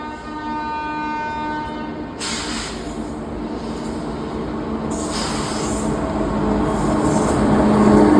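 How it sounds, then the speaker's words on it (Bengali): A passenger train pulls into a station in India, with a steady rumble of wagons and a long horn blast early on. The wheel and rail noise holds loud and close throughout and slowly builds. "দেখাচ্ছি ট্রেন ঢুকছে প্রায়"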